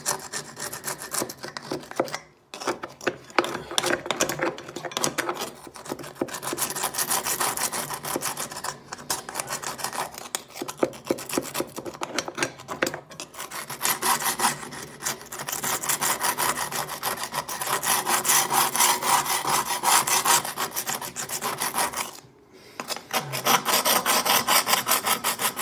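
Grime buildup scrubbed off floor tiles produces a continuous, close, rhythmic rasping scrape that runs almost unbroken, with a couple of brief pauses.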